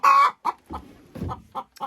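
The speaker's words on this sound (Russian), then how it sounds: "Это курочка чубатая." A crested hen clucks up close, opening with one drawn-out call and then a run of short, uneven clucks, loud and clear with no talk.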